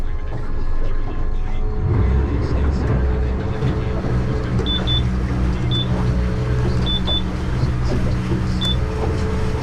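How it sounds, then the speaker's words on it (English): The outboard motor of a Stabicraft 2500 boat hums steadily through a water test as it is put in gear, a close continuous drone with faint mechanical clicks and a voice speaking over it. "So now I put it in gear."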